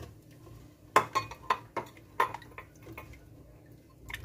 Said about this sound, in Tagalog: At haluin lang ng haluin at haluin ulit hanggang sa matunaw ang sugar at ang cornstarch.